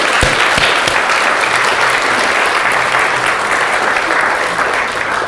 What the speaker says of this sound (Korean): 감사의 박수 한번 드려요.